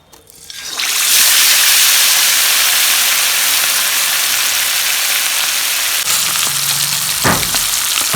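Chicken drumsticks dropped into hot oil burst into a loud, sudden sizzle that holds as a dense, continuous frying roar, with a brief clatter near the end.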